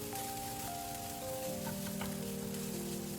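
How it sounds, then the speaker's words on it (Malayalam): Chicken roll filling sautéing in a pan: a steady, quiet sizzle with soft stirring, and a faint tonal hum running underneath. "നന്നായിട്ടൊന്ന് വഴറ്റി കൊടുക്കാം"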